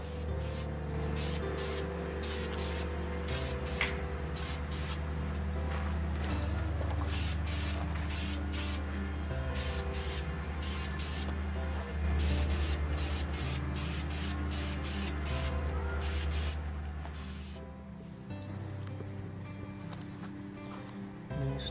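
A spray can or spray gun hisses in repeated bursts as paint goes onto a repaired 1979 Honda CT 90 muffler, over a steady low background hum.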